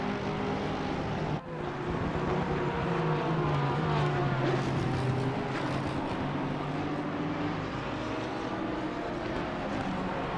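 Porsche GT3 race cars lapping Barcelona in Assetto Corsa Competizione, a pack of engines droning and shifting pitch together as they pass, steady and dense throughout.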